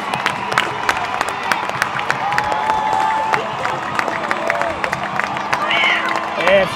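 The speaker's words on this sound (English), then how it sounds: "Look at this crowd." Stadium crowd at a Penrith Panthers versus Gold Coast Titans rugby league game, a steady roar of cheering and scattered clapping close around, with nearby voices talking over it.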